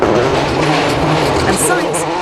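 Carlos Sainz's rally car on a stage of the 2004 WRC Cyprus rally, a loud, steady engine roar with brief high tyre squeals, heard under a commentator's voice.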